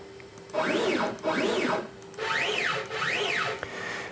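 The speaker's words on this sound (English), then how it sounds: "Then I'll jog the spindle back to the XY home position." A CNC router spindle jogging back to its XY home position during guitar body work, with four rising-and-falling stepper motor whines over a steady hum.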